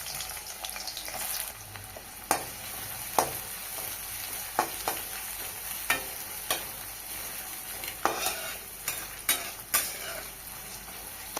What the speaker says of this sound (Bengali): তেলে পেঁয়াজ কুচি দিয়ে দেবো।